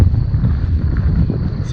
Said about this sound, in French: il fait plus frais, il y a du vent